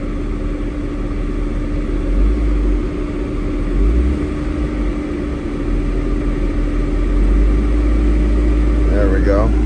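A car engine is revved gently to around 1,000 RPM on a cold day, a close, steady hum that swells slightly partway through and then holds.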